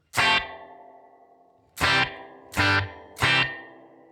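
Headrush Spring Guru spring reverb effect with its boing setting lowered: four sharp struck guitar hits, one then three in quicker succession, each leaving a bright decaying reverb tail, heard alone.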